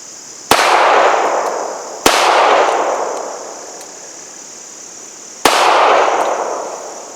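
Three loud, sharp gunshots from a Ruger Mark IV Hunter pistol, each a crisp crack with a ringing decay, spaced unevenly about a second and a half and three seconds apart.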